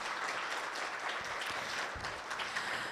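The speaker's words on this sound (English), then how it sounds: "So can we get a round of applause for our ladies?" An audience at an evening meeting claps for a group of women, a steady, moderately loud spread of applause lasting nearly three seconds.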